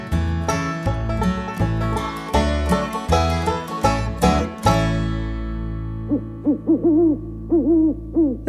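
An owl hoots in a children's song about owls, rhythmic hoot-like tones over accompanying music, followed by wavering calls near the end.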